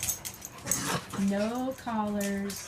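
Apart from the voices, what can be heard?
dog whimpering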